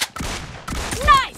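Gunshots ring out in the video game PUBG during a gun-game match, a few sharp bursts in quick succession with game effects mixed in.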